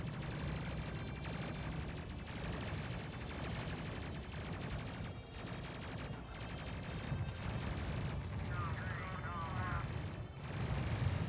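Gunfire in the Space Crew video game strikes the ship, heard as a dense, continuous clatter of impacts over a low rumbling bed, with muffled talk mixed in throughout.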